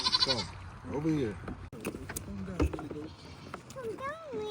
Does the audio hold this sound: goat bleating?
yes